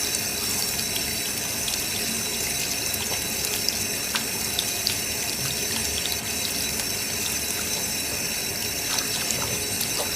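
Steady running cold tap water splashing into a sink while someone washes their face, close and continuous, with occasional small splashes and clinks.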